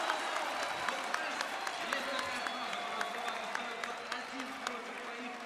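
A large esports crowd at the StarSeries XIV grand final between Fnatic and Natus Vincere cheers and applauds. Sharp claps and rising cheers sound from a distance, sitting fairly low under a commentator's voice.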